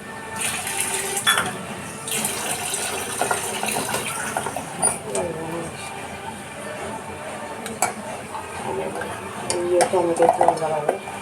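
Water poured into a sizzling home-cooked tomato curry as it is stirred, with scraping and clinking of utensil on pan over a steady sizzle, plus brief pouring and soft background voices.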